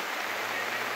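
Heavy rain pours steadily near the flooding Camaragibe Mirim river in the Zona da Mata region of Alagoas, Brazil, forming a dense, even hiss with no voices.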